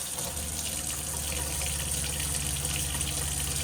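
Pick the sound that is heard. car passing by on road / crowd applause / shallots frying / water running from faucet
water running from faucet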